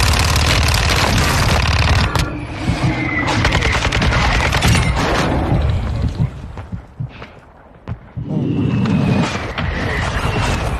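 Video game gunfire from a requested fire strike, with loud bursts of rapid shots and booms in dense volleys, a quieter gap in the middle, then more heavy firing; no speech.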